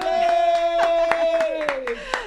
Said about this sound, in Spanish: quiero pedir un aplauso, por favor, para Natra